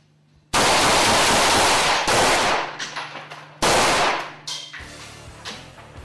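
Kalashnikov rifle fired at a Panasonic Toughbook laptop: loud, close bursts of automatic gunfire in three sharp volleys, each cutting off into ringing echoes and short metallic rattles, with no talking.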